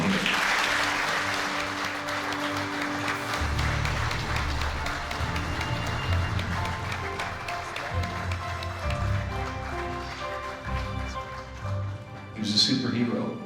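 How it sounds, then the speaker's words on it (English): An audience claps steadily for a fallen soldier's family as they come forward at an Army memorial event, the applause filling the space continuously and fading briefly near the end. "give them a hand clap as the family comes forward right over here"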